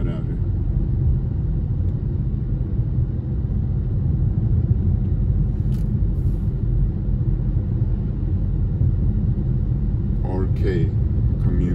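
A car cruises along a residential road past large homes, its engine and tire rumble a steady, loud drone throughout, with brief faint sounds near the end.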